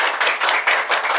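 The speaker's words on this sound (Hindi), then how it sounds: "इनके लिए भी एक दफा तालियां।" A small group of friends at an informal music gathering claps in short, uneven bursts, close and fairly loud, the applause swelling and dipping in quick waves over about a second.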